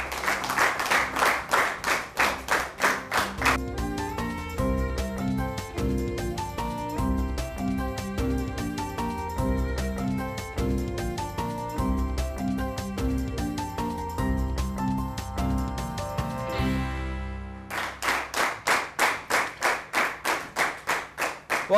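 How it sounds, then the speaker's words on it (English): An audience at a school debate claps in sustained applause, at first in loud rhythmic unison, then settling into dense clapping under a musical backdrop, before breaking again into strong rhythmic clapping near the end. "let's give them another round of applause"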